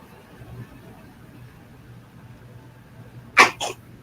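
A single sharp human sneeze, close and loud, cutting through a quiet room with a faint low hum, followed by a shorter trailing burst.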